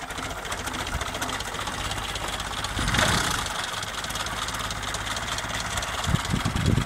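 The engine of an original 1964 Austin Mini Moke idles out of gear after the key is turned, a steady close mechanical drone with a slight swell in the middle and a few knocks near the end, no talk.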